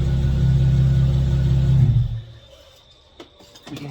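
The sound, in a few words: BMW 335i single turbo engine being switched off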